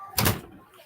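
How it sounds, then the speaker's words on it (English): A door is pushed shut nearby with a single soft thump that fades quickly into room quiet. "Close this door."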